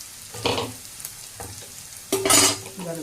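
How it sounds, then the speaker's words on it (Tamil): Spices crackle and sizzle in hot oil in two loud bursts while tempering for a fish curry, with a spoon scraping and stirring through the pan between them. "இப்போத்துக்கு அதே போட்டு தாளிக்கிறேன்."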